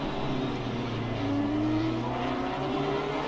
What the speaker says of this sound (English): So I'm hearing 2 cars